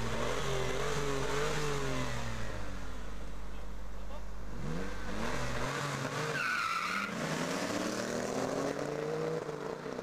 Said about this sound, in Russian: Корвет на сликах. Митсубиши полнопривод. Обратите внимание на старт.